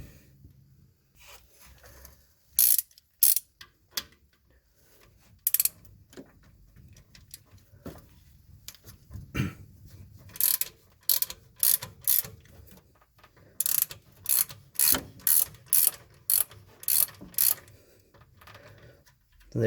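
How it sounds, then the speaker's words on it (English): A ratchet clicks in quick bursts while loosening the alternator on a Pontiac V8 engine, near and crisp, with pauses between runs of rapid ticks. "So I'm going to take the alternator out and see if we can't move this aside."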